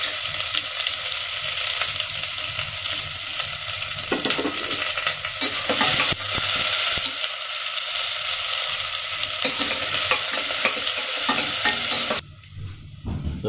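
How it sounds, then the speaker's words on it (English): Chopped onion frying in a pan with cashews for coconut milk rice, a steady loud sizzle with stirring scrapes throughout, dropping to a quieter hiss at the very end. "I'm going to add the onion"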